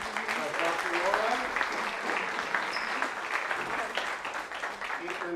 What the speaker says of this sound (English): we're going to invite maybe another round of applause for all our speakers